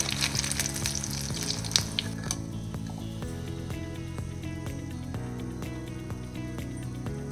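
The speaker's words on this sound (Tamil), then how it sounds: "முறுக்கெல்லாம் நல்லா வெந்து கொஞ்சம் எண்ணெயோட சலசலப்பெல்லாம் கம்மியாகிட்டுருக்கு" Murukku deep-fry in hot oil as the sizzle dies down, a steady low bubbling crackle with a few louder pops early on, partly under background music.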